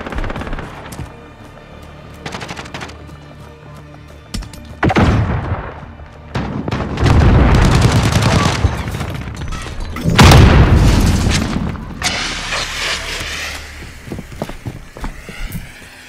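Grenade blasts and gunfire in Call of Duty: Modern Warfare (2019) multiplayer, with heavy booming thuds around the middle and a second loud blast later, amid scattered shots and footsteps, with no talk.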